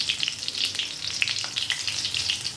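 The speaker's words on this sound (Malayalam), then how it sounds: "ഇതിലേക്ക് നമുക്ക് കുറച്ച് കറിവേപ്പിലേക്ക് മൂപ്പിക്കണം" Curry leaves crackle in hot coconut oil for a Kerala chicken roast, sharp pops and spits over a continuous close sizzle, with no one talking.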